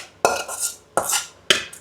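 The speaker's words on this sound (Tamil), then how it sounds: "அண்ட் இப்போ இதை வந்து நான் ஒரு பவுலில் ட்ரான்ஸ்ஃபர் பண்ணிக்கிறேன்." Cooked chicken samosa filling being scraped into a bowl, heard as three sharp metal-on-bowl clanks spaced about a second apart, each followed by a short rattling scrape, close and fairly loud with no talking.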